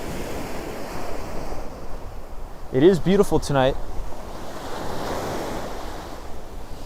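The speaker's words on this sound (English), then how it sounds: "I'm going to see if you guys could hear the waves." Ocean surf on a Miami beach at night, a loud, continuous wash of breaking waves with wind buffeting the microphone and a brief spoken comment partway through.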